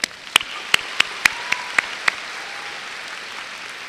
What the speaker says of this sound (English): Let's give each other a round of applause, yeah?